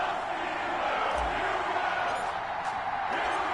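Stadium crowd in an EA Sports NFL video game ahead of a Colts versus Steelers matchup, a dense continuous roar with occasional cheers rising through it.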